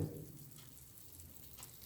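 Soft, steady crackling and sizzling of oven-roasted pork belly with potatoes, a fine continuous hiss with no talking.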